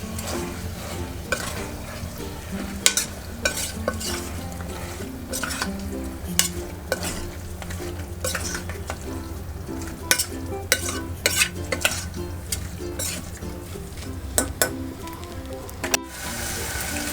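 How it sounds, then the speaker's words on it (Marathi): Chicken pieces sizzle and fry with garam masala in a pan while a spoon scrapes and stirs with frequent sharp metallic clinks, continuous and close. "चांगलं एकदा परत परतून घेऊया"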